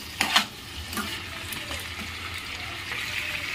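Chicken stew ingredients frying in a pan for a Bengali-style stew, a steady soft sizzle with a few louder stirring scrapes near the start, continuing evenly close by without talk.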